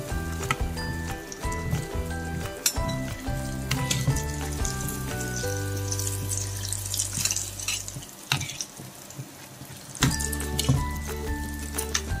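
Burelu, sweet stuffed fritters made as Varalakshmi Vratam prasadam, frying in hot oil until brown, with a steady close sizzle broken by a few clinks and stirring noises and no talk.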